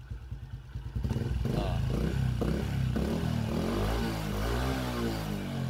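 A Raider J Fi 115 motorcycle with a battery discharge problem is kick-started, then its engine catches and runs steadily at a close, loud idle, with a little mechanical clatter and no voices.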